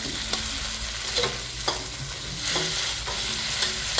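Hot noodles and leafy greens being stirred together in a frying pan for vegetarian pad see ew, a steady close sizzle with repeated scraping strokes and no talking.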